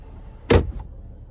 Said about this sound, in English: Gotta open the glove box, hit this button here.